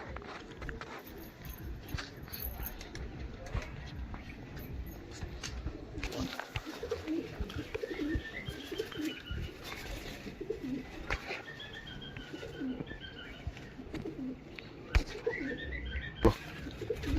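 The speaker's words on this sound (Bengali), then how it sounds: "দেখুন হাতেই ডাকছে পায়রা।" A pigeon held in the hand at a pigeon sale gives repeated soft, close coos amid faint handling noise and background activity.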